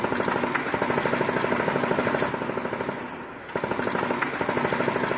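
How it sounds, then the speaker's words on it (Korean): Night shootout in Nuevo Laredo, a Mexican border city, apparently involving drug cartels: dense, rapid, sustained bursts of gunfire with a brief lull before the firing picks up again, loud and continuous. "어둠 속 정막을 깨고 총성이 잇따라 울려 퍼집니다."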